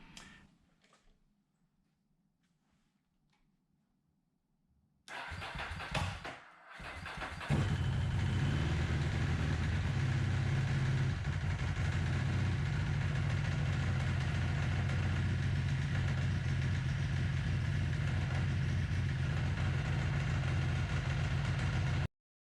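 A Ducati 749/999 motorcycle engine cranks and fires after a few quiet seconds, stumbles briefly, then settles into a loud, steady, close idle that runs without a break.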